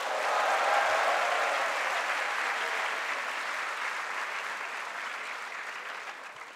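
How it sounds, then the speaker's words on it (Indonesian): Audience applause at a school lecture session at SMA Taruna Nusantara, a steady dense wash of clapping that stays loud throughout and tapers slightly toward the end, with no voices over it. "Berikan tepuk tangan"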